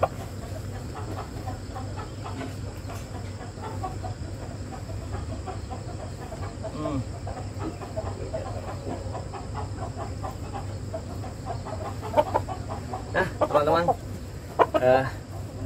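Chickens and young chicks clucking in a farm coop in the morning, a continuous scatter of soft clucks and chirps over a low hum, growing busier and louder toward the end, with occasional voices nearby.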